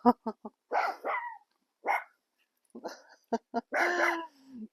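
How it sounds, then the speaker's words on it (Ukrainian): A dog barks at a rabbit indoors: close, sharp short barks in quick bursts mixed with longer, whiny yelping barks, separated by brief silences. "А це Марсик гавкає на зайчика."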